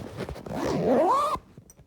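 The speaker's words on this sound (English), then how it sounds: "And then we'll zip this guy back up." Zipper being pulled closed on the cloth bag of an Oreck XL Classic XL2310 RSN lightweight upright vacuum, a close, steady rising zip lasting about a second and ending abruptly, followed by quiet handling.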